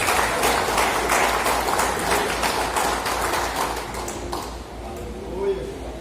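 A church congregation at a family worship service applauds together, a dense wash of clapping that slowly thins and fades toward the end, with some voices mixed in.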